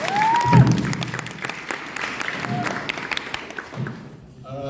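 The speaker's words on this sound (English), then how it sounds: "Everybody give him a applause." An audience at a Mu Alpha twentieth-anniversary concert applauds with dense, steady clapping that fills the whole stretch, with a few voices and a brief whistle-like tone rising above it near the start.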